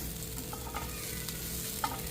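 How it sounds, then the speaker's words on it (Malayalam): Onion and green chilli masala for egg puffs is stirred as it fries in a pan: a steady, soft sizzle with a few light scraping knocks of the spoon against the pan. "നന്നായിട്ട് ഇളക്കി കൊടുക്കാം"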